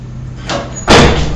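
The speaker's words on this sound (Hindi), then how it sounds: "ये दरवाजा खुला हुआ था, बंद हुआ है।" A door swings shut on its own with a brief whoosh and then a loud, close slam, with no voices.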